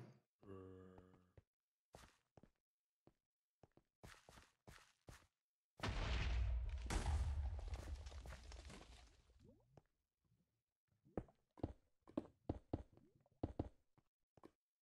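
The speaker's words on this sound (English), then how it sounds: "Gotta love explosions." An explosion in the video game Minecraft, a single loud booming blast that rumbles for several seconds and fades, set among sparse short in-game clicks and footsteps.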